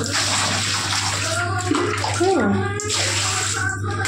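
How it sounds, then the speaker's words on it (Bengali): Running water splashes as feet are washed after walking barefoot on a rooftop at night, a steady pour with a low hum beneath and faint voices talking over it. "আমি একটু পাটা ধুয়ে নিই"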